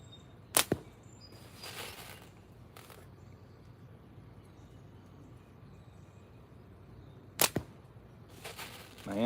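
Slingshot shots, fired during a casual livestream session, come as two sharp snapping releases about seven seconds apart, each a quick double crack standing out from a quiet background.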